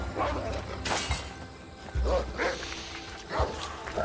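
Dogs in the video game Assassin's Creed Odyssey bark in several loud, close woofs spaced across a few seconds, mixed with yips and game background noise.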